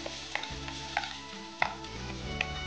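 Whole wheat grains being sautéed and stirred in a pan, with quiet dry scraping and a few sharp clinks of the spoon against the pan at irregular intervals, no talking.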